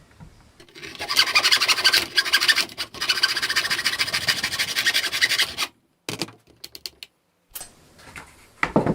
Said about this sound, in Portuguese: E aí com o arco de serra comum,